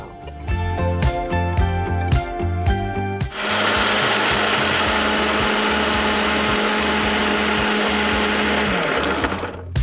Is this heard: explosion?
no